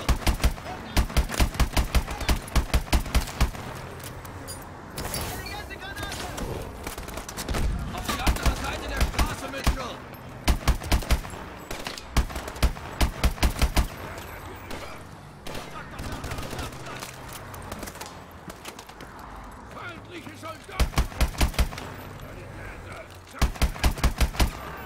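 Gunfire in Call of Duty Advanced Warfare during a hostage rescue in Nigeria: repeated bursts of rapid automatic shots, loud and close, broken by quieter stretches of battle ambience, with voices talking in between.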